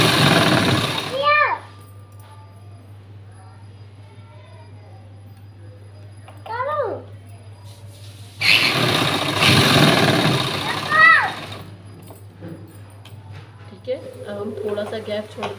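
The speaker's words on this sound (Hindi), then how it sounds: "अब हम यहाँ पर सिलाई लगा देंगे इस तरीके से।" A sewing machine sews a buttoned blouse with a couple of short bursts of mechanical whirring, one near the start and one in the middle, while someone talks in between.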